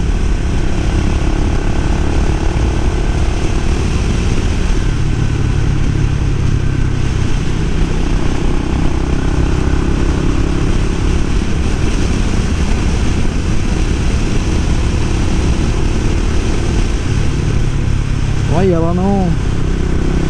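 A Suzuki motorcycle ridden on a winding mountain road, its engine a loud continuous drone with wind rush throughout and a brief rising rev near the end, heard up close from the rider's position.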